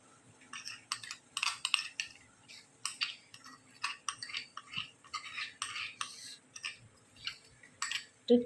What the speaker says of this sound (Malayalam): നല്ല പോലെ ഇളക്കി കൊടുക്കും മിക്സാക്കി കൊടുക്കും